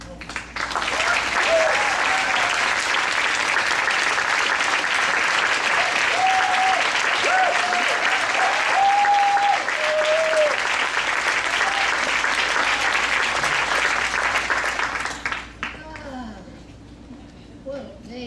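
Loud, sustained audience applause welcomes a speaker to the stage at a gathering, a dense wash of clapping with a few cheers that holds steady before tapering off near the end.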